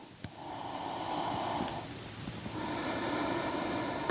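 Slow, steady breathing during a full-body yoga stretch, a close, soft airy hiss that swells and fades in long breaths over a few seconds, with no talking.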